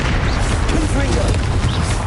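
Confringo blasting-spell explosions in the Hogwarts Legacy video game make a dense, loud rumbling boom that fills the whole moment without a break.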